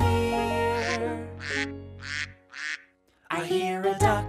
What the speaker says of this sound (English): I hear a duck